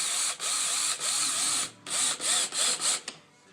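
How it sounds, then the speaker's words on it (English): Power drill driving deck screws through the toes of boots into plywood, several loud bursts of whirring with brief pauses between them, the last ones shorter and choppier, no talk. "we're going to drill the toes into the wood for now, just to see if you can hold it"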